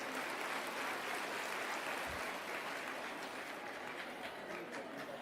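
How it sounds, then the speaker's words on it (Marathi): A crowd at a political rally in Maharashtra applauds. The clapping is a dense, even, fairly distant roar that stays steady for about five seconds, with no voices over it. "टाळ्या वाजवायच्या तर जोरात वाजवा"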